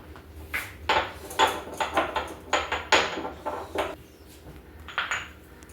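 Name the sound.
cardamom pods being crushed in a mortar and pestle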